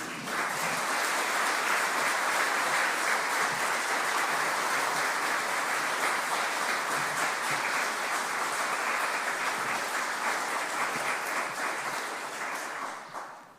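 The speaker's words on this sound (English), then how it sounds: "a big round of applause, please" A large crowd at an awards ceremony applauds steadily, a dense wash of clapping holding at full strength for over ten seconds before tapering off at the end.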